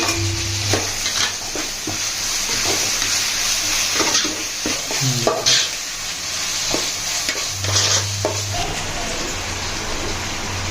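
Chopped tomatoes sizzle steadily in a hot pan for chicken gravy, with repeated scraping stirs of a spoon and a low hum of frying throughout, no talking.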